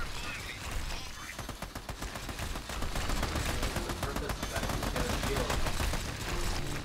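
Sustained gunfire from the video game Army of Two, rapid automatic bursts crackling densely and continuously with a muffled background, growing louder partway through.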